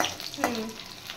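Soft sizzling of paneer frying in a pan, a steady crackling hiss with a brief stirring scrape near the start.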